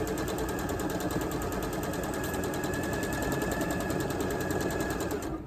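A sewing machine runs steadily while stitching a row onto a crazy quilt, a fast even mechanical rattle held close and constant for several seconds before stopping.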